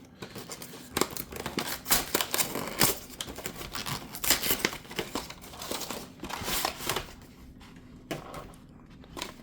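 Pokémon card box set packaging being opened and handled, with repeated close crinkling and crisp rustling bursts, snips and tears of plastic wrap and cardboard, fairly loud and irregular, no talking.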